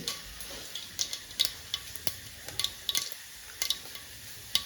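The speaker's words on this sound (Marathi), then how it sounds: "मस्त की तडतडून झालेलं आहे जिरा टाकलेला आहे" Cumin and mustard seeds tempering in hot oil, with quiet irregular pops and crackles scattered over a faint background sizzle, heard close and with no voices.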